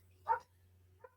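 A single dog barks once at a distance, followed by a faint short yip, over a low steady hum.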